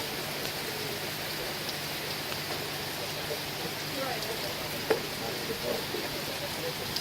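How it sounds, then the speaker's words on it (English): Steady heavy rain pours down on a walking trail along Hadrian's Wall, a dense continuous hiss with one brief knock partway through, and no talk over it. "It is chucking it down."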